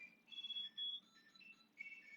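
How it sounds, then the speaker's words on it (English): A Tile tracker attached to car keys plays a faint, high electronic chirping melody, a few rising and falling beeps in quick succession, in an otherwise quiet room. "And that is my car keys beeping."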